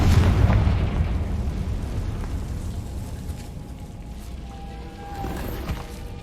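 Explosion spells Bombarda and Confringo cast in the video game Hogwarts Legacy, heard as a loud deep boom that rolls off into a fading rumble with a smaller pop near the end.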